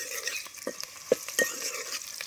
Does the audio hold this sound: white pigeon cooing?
no